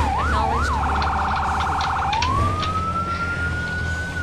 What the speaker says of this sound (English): what do we need two sirens for?